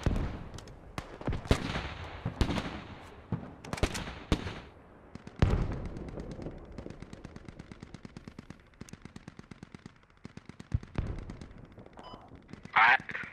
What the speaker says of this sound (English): Machine gun wins that duel.